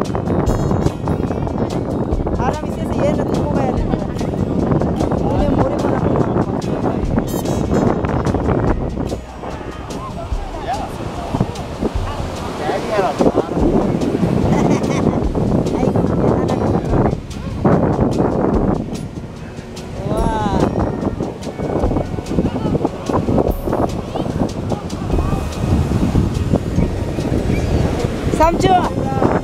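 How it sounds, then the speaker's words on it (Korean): Strong, sand-laden wind at a beach roars steadily and loudly against the microphone for the whole stretch, with brief lulls and voices faintly in the background. "바람이 세서 얘는 데리고 가야 되는 거야. 오늘 모래바람."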